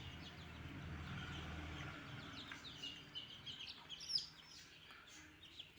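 A small batch of seven native chicken chicks gives faint, high, scattered peeps, growing more frequent toward the end over a quiet background.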